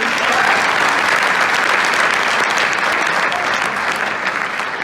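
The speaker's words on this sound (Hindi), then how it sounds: "एक बार ताली बजा सकते हैं अपने लिए?" A seminar audience in Greater Noida claps loudly and steadily for about five seconds. The dense, continuous applause fills the hall without a break and with no talk over it.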